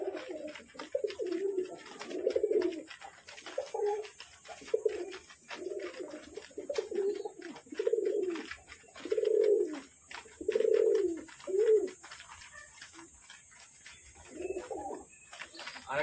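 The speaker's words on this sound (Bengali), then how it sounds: "সমস্ত পায়রাগুলো এখন খাবার খাচ্ছে।" Several pigeons coo in a steady series of low, throaty calls while feeding close by, with faint chirps and a constant high hiss in the background; no one speaks.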